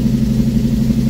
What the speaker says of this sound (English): Let's see what happens when we give it a little gas.